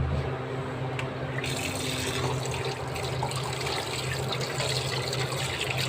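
Running tap water pours steadily over raw goat liver being rinsed in a sink, a continuous close trickle and splash with no speech.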